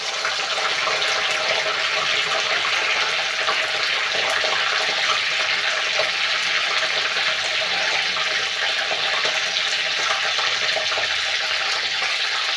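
Curry leaves dropped into hot cooking oil give a loud, steady hiss of sizzling that holds evenly for the whole stretch, with no voices.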